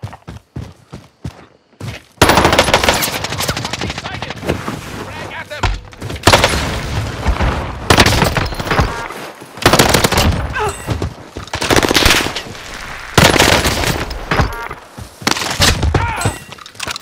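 Bursts of automatic gunfire erupt in Call of Duty Warzone after a brief quiet start, loud, rapid volleys separated by short pauses, with occasional game voice callouts mixed in.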